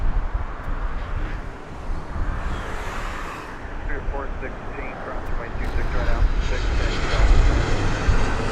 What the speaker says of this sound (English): Southwest Airlines, SWA 3505, coming in from Dallas, Texas, Boeing 737. And that should be here in a matter of seconds here.